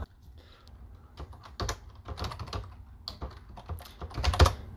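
A file name being typed on a computer keyboard: a rapid, uneven run of close, clicking keystrokes with a slightly heavier tap near the end, alone without talk.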